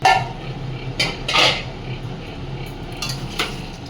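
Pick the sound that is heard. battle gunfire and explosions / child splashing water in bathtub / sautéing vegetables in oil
sautéing vegetables in oil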